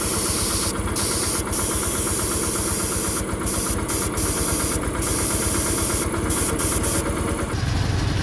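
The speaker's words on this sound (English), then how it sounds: "Now for a quick demonstration of the onboard air compressor." An onboard air compressor on a 1986 Ford Econoline 4x4 work van runs with a loud, steady mechanical drone and rapid pulsing throb, while brief bursts of hiss cut in and out throughout.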